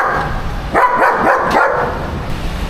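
Several dogs bark in a quick burst of four or five loud, close barks over a steady background hum, then the noise settles.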